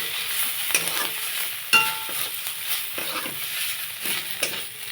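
Spices with chopped ginger, green chili, salt and turmeric sautéed in a little oil, a close, steady sizzle punctuated by a few sharp scrapes and clinks of a spatula against the pan.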